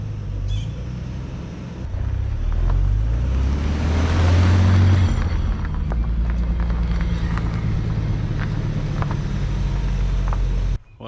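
A Nissan 300ZX drift car sits idling after a coolant bleed, its engine giving a loud steady rumble with a brief rise in the middle, close up, then cutting off abruptly at the end with no talking.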